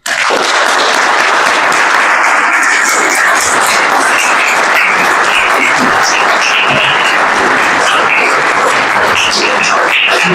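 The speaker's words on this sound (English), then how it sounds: "please join me in a well-deserved round of applause for Dr. Willem Buiter." An audience at the 2024 Silvio Gesell award ceremony breaks into loud, sustained applause, a dense and steady clapping roar that fills the room without pause.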